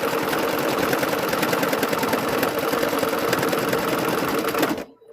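A sewing machine stitches steadily through a fabric mug rug with batting behind it, a fast, even mechanical whirr that runs continuously and loud, then stops abruptly near the end.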